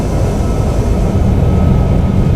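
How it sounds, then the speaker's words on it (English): Thrust reversers roaring on a Qantas 717-200 during landing rollout in the Prepar3D flight simulator, a loud, steady broadband engine rush that holds constant throughout. "Got our reversers on."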